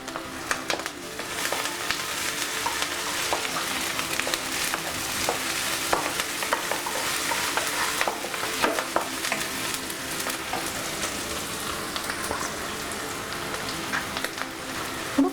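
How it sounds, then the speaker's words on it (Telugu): Tomato pieces frying with lightly fried capsicum in a pan for masala tava pulao made from leftover rice: a dense, continuous crackling sizzle like rain patter, close and even throughout, with no speech. "ఇప్పుడు టమాటో ముక్కలు వేసుకుందాం."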